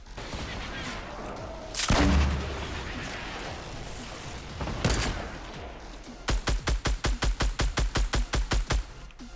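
SCAR assault rifle firing in Fortnite, a couple of heavy booming shots followed by a rapid, evenly spaced burst of loud gunfire.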